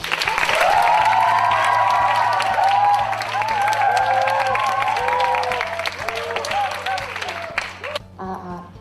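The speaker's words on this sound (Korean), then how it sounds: "큰 박수로 맞이해 주시기 바랍니다." Audience at a university student presentation contest applauds loudly to welcome a presenting team, sustained clapping that fades toward the end while a host speaks over it through a microphone.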